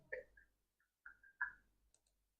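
Several light computer mouse clicks in a quiet room, spaced irregularly, while launching an instance in the AWS EC2 console; soft, close and isolated with no talk over them.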